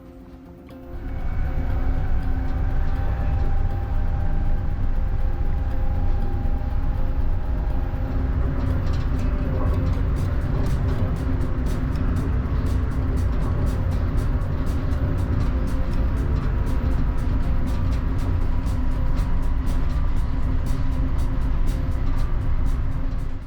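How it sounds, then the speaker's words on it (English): Continuous low rumble of a Shore Line East passenger train running at speed on the Northeast Corridor between New London and New Haven, with steady rapid clicking of wheels over the track throughout. "The corridor allows our train to fully stretch its legs to reach its maximum operational speed"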